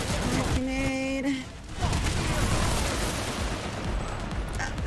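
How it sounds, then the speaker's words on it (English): A grenade explodes in the shooter game PlanetSide, a sudden loud broadband blast that swells into a long rumbling wash of battle noise after a brief tonal sound. "Grenade."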